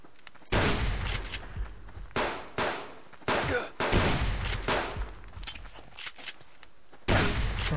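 Shotgun blasts from a double barrel in the survival game Subsistence, several loud booming shots spaced over a few seconds, with a speaking voice audible between them.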